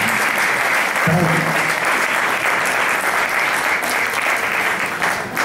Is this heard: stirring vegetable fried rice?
no